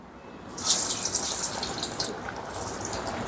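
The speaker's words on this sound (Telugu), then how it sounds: "ఆయిల్ వేడైందండి ఇప్పుడు మన క్యాబేజీ వడల్ని అయితే వేసేసుకుందాం" Cabbage vadas dropped into hot oil, a broad hissing sizzle that bursts in loudly after a brief quiet moment and then settles into steady close-up crackling frying.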